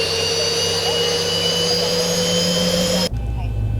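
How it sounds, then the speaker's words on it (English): Jet engine of a Boeing 737-800 at London Gatwick, running steady with a loud continuous roar and whine lasting about three seconds, then cut to a muffled low rumble. "See that engine number 2 is running."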